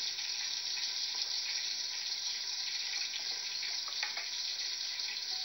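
Onions frying in a pan over medium heat for turnip sabzi, giving a steady, dense sizzle that holds evenly throughout with no voices.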